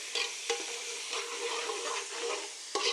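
Onions frying in a pan for biryani until deep red, stirred with a utensil: steady close sizzle with scraping stir strokes and a couple of sharper clinks, no talking.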